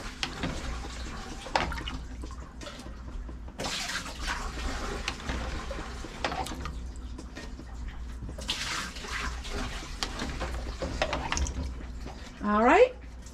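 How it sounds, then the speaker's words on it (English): Water is scooped out of a canning pot, with repeated splashing and pouring bursts close by, a voice talking between them and a short rising bubbly gurgle near the end. "Let's scoop just a little bit of water out of there."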